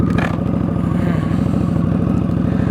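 A Victory Octane motorcycle fitted with an RPW full exhaust roars close by as the throttle opens, a loud, steady deep engine pulse with rapid firing rhythm held throughout.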